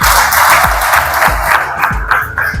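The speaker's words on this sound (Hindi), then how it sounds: "एक बार जोरदार तालियां बजा दें।" An audience at a tribal community gathering claps together at a stage event, a dense burst of hand claps with crowd noise and a few rhythmic low thumps underneath, fading slightly toward the end.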